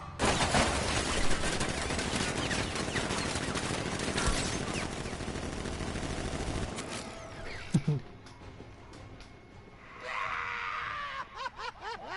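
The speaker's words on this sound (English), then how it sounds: "Activate sentry guns on my mark." Sentry turrets open fire in Batman: Arkham Knight, a dense, loud stream of automatic gunfire for several seconds, then the barrage stops and scattered mechanical clanks and sharper effects follow against quieter game ambience.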